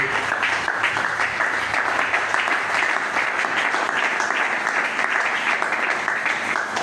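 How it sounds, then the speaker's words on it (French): A church congregation applauding together, a dense steady clapping that holds evenly loud throughout with no talk over it. "Est-ce qu'on peut acclamer pour la parole de Dieu?"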